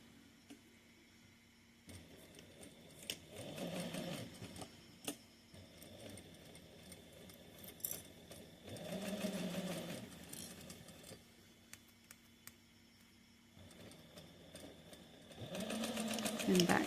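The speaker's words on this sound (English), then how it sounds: "we're going to take it to the machine and a 1/4 inch seam allowance again" A sewing machine stitches a quarter-inch seam in a fabric sunglasses case, running in several short bursts between pauses, with small clicks and faint handling noise.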